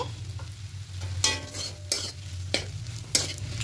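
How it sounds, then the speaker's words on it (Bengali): Spiced potato filling stirred in a pan, a soft continuous sizzle broken by four sharp spatula scrapes at a steady, unhurried pace, close and alone. "দিয়ে আলুটার সঙ্গে খুব ভালো করে এটাকে মিক্স করে নেব"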